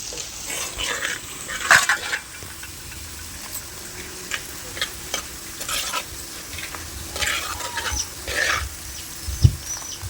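Garlic and curry leaves fry in a pan for a mango and broad bean pickle, giving a steady close sizzle broken by scraping stirs and a few sharp utensil knocks, with no talking.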